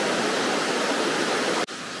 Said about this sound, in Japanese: ずっと上流側もなめ滝になってます